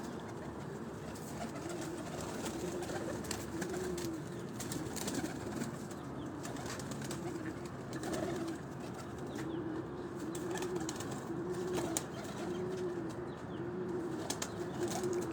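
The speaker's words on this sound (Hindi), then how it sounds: "ये तैयारी वाले कबूतर हैं साल के शौक के लिए" Pigeons kept for the yearly hobby fill a cage with repeated low cooing and occasional bursts of wing flapping, fairly close but soft, continuing steadily with no speech.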